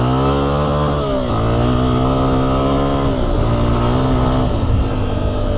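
A 2026 Honda CRF300F dirt bike runs hard across open desert, its engine loud and close, revving up and down in waves as the rider shifts and holds throttle, with no talk.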